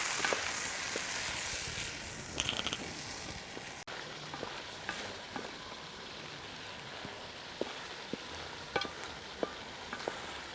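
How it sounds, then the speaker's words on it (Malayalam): Spicy toddy shop curry with chickpeas being stirred in a pan, a soft continuous sizzle broken by scattered scraping clicks of the spoon against the metal, close and fairly quiet, with no talking. "നമുക്ക് ഇതിക്ക് നമ്മളെ കടല ഇട്ട് കൊടുക്കാം. എല്ലാം കൂടി ഒന്ന് നല്ലോണം മിക്സ് ചെയ്യാം."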